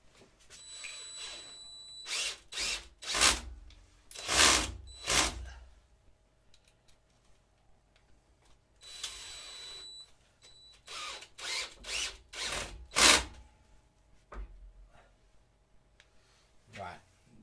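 A power drill drives screws into wood on a spindle-turning job in two spells of short, loud, whirring bursts separated by quieter handling noise.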